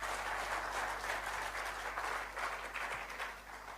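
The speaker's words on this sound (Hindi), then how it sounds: "तालियां एक शानदार इनके लिए होनी चाहिए," Sustained applause from an audience at a talk, a dense steady wash of clapping hands filling the room throughout, with no voices rising above it.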